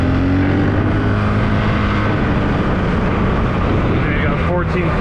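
A brand-new 2022 Honda CRF450RL dual sport motorcycle out on a ride gives a loud, continuous engine drone close up, mixed with heavy wind rush that masks most detail.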